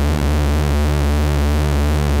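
A synthesizer square wave has its pulse width swept by an LFO, producing a steady, buzzy, hollow tone whose timbre slowly shifts, loud and continuous with no voice.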